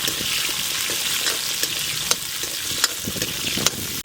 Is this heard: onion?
yes